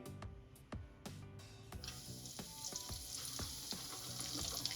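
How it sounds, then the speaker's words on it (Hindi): Chicken pieces for a crispy zinger burger frying in hot oil over a low flame, heard as a soft, steady sizzle building up under scattered light clicks and pops, quiet and close, with no talking. "तो अब हम इसमें अपने चिकन पीसेस डालेंगे।"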